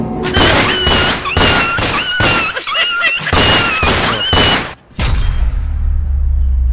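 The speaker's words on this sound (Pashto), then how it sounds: "نن خو مې د باندې خطا ډزې وکړې" Gunfire in a comedy sketch from Swat: loud, sharp bursts come in quick succession with voices over them, then a short gap and a low, rumbling boom.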